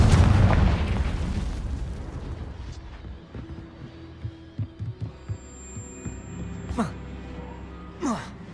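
A Confringo spell explosion in the video game Hogwarts Legacy: a loud, deep blast at the start that rumbles and fades, followed by quieter magical thuds and whooshes.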